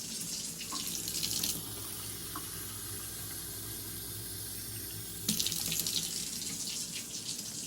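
Water runs from a kitchen faucet into a bowl while amaranth bread is being prepared. The stream flows steadily and close by, and it turns to a louder, splashier rush at the start and again near the end. No one speaks.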